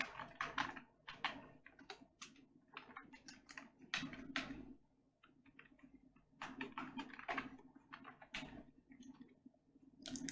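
Close, steady bursts of typing on a computer keyboard while C code is written, dense clattering key runs separated by short pauses, with no talking.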